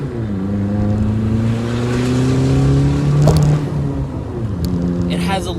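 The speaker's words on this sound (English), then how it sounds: "there's a lot more turbo noise" A Chevy Cruze fitted with an Injen cold air intake accelerating and shifting, its engine droning steadily with turbo and intake noise, loud and continuous, and a brief hiss near the end.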